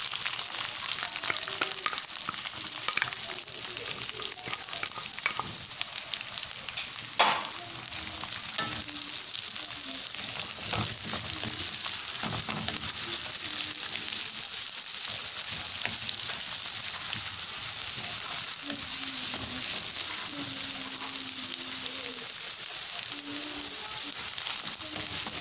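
Onion frying in a pan for a Shanghai big head fish dish, a steady loud sizzle throughout with occasional stirring scrapes and clinks, no talking.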